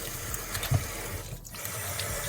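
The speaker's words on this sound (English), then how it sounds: "I'm gonna wash off the salt." Water running from a tap to wash the salt off saltfish for Jamaican ackee and saltfish, a steady close splashing stream with a brief louder splash partway through.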